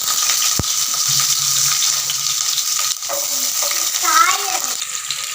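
Garlic and onion frying in hot oil with fenugreek for tomato thokku, a steady close sizzle with stirring scrapes and a few clinks, no talking.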